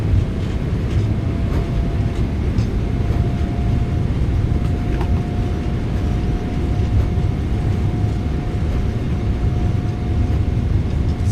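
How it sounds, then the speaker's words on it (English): Thrust reversers of a PMDG 777-200ER roar during landing deceleration in a flight simulator: a continuous, loud, steady rushing rumble with a faint tonal whine running throughout. "Reversers are out, decelerating."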